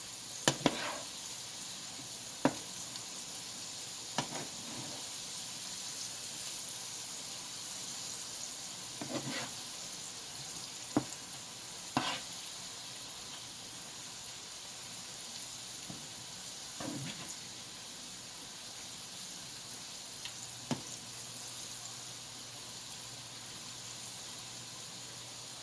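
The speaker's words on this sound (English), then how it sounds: "Keep frying the okra until the okra turns golden brown." Marinated okra fries in oil in a pan with a soft, continuous sizzle and hiss, broken by occasional sharp spoon clinks and pops spaced several seconds apart.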